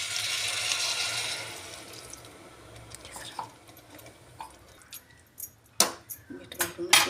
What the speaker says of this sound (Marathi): त्याला हा दीड ग्लास पाणी घालणार